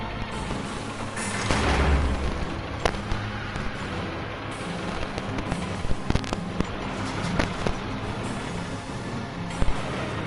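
An enemy in Bendy and the Ink Machine fires repeatedly in a rage, with a dense rumble of gunfire and scattered sharp cracks and pops over a busy, noisy game soundscape.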